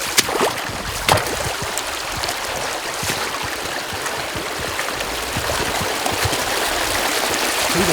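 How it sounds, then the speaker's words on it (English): Water pours off a muddy pond dam and runs down a hillside, giving a steady, close rushing flow with a few sharp splashy bursts near the start. "See the water running off of that right there? That is a lot of water coming down this"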